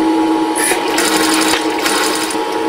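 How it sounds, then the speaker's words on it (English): A sewing machine runs steadily, stitching together the neck side pieces of a large fabric puppet, a loud continuous close whir with a slight shift in pitch midway and no talk. "We'll sew the neck side pieces together"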